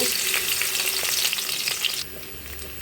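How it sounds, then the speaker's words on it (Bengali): Onions sizzling hard in hot oil in a cooking pot, a dense, steady crackle that drops to a quieter hiss near the end. "আমি হাড়িতে তেল দিয়ে দিয়েছি এখন পেঁয়াজ দিব"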